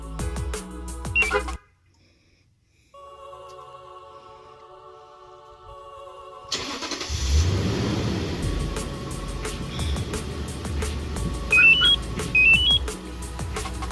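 Car started by remote automatic start from an alarm system: electronic beeps and chirps, a quiet pause, then the engine cranks and catches into a running idle with scattered clicks over it.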